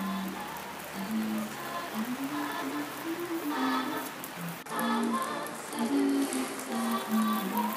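Steady rain pattering on a surface, a continuous hiss with a faint tonal hum running underneath and no talking.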